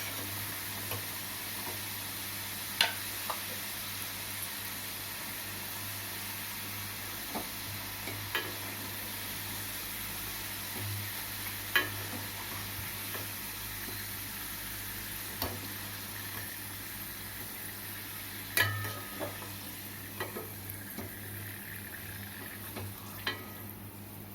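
French fries sizzle steadily in hot oil, a soft continuous frying hiss with occasional small pops and clicks, recorded close and quietly throughout.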